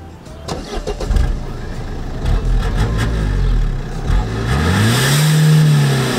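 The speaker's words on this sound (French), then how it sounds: "Du coup, là, on va faire le bruit de la Modus origine." A stock Renault Modus engine revs from idle, rising in loud surges and then holding a high steady whine, close to the car with no talk.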